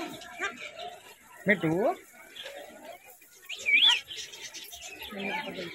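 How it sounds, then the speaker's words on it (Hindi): Exotic parrots calling inside a zoo bird aviary in Indore, with a few sharp rising and falling squawks and whistles over steady background murmur and faint chatter. "ये पैरट्स है सारे, जितने भी यहाँ पे जो पशु विहार में दिख रहे हैं आपको, सारे एक्सोटिक पैरट्स हैं।"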